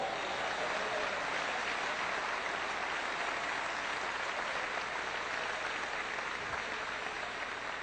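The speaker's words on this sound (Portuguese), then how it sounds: "Aplaude ao Senhor nesta noite." A church congregation applauds during an evening service: dense, steady clapping from many hands fills the whole stretch at an even, sustained loudness, with no clear speech on top.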